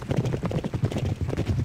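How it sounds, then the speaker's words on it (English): Racehorses gallop on a racetrack in the Derby Owners Club video game, a quick, rhythmic drumming of hooves that runs close and fairly loud. "Young, fine horses filled with hope racing around the track."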